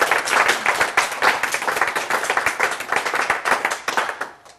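A workshop audience claps together in a room, a dense, steady round of applause that lasts several seconds before tapering off, with no voices over it.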